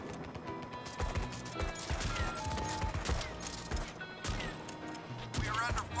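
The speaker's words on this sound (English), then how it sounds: "I'm under heavy fire." Heavy gunfire in the video game Dustoff Z, with rapid bursts of shots crackling close and loud amid crashes, together with game voices and effects.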